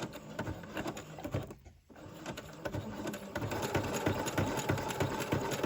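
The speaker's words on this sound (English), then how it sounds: "I'm going to sew it down. I know, silly, right? And I'm going to do a zigzag stitch." A sewing machine runs a zigzag stitch through several layers of a journal page, giving a steady, close mechanical whir with a rapid needle rhythm and a brief stop partway through.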